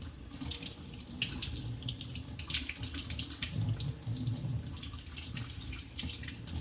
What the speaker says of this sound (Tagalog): this running water will help us to rinse organism and dirt into the sink